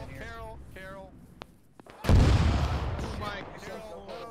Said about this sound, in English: We got big time fucking artillery dropping on my pause.